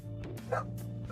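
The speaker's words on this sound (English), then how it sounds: "these dogs are so fucking loud right now." Dogs bark in the room, a few quick yips and barks over a steady low hum, fairly close but moderate in level.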